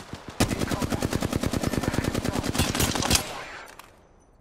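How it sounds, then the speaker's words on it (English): Rapid automatic gunfire in a video game, a dense burst of around thirty shots fired at the player for about three seconds, loud and close, then fading away. "Shot fired at me."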